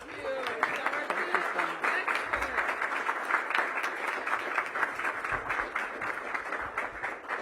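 Steady audience applause welcoming Mayor Bowser at a Washington, D.C. public event announcing an AED rebate program, a dense sustained round of clapping from a crowd that holds evenly throughout.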